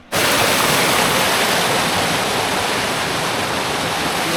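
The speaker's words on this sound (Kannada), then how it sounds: "ಡ್ಯಾಮ್ ಗೇಟ್ ಎತ್ತಿರಿ ಎಲ್ಲ ಫುಲ್ ನೀರು." Rainwater rushes through opened dam gates near Shivamogga, a loud, continuous roar that starts abruptly and holds steady without pause.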